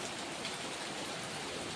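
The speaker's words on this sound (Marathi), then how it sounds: "आज एकदम एवढा जोरात पाऊस आलाय ना" Heavy monsoon downpour in Mumbai, a steady dense hiss of rain drumming on surfaces, continuous and fairly soft with no voices over it.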